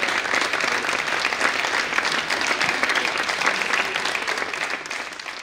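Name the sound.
audience and participants applauding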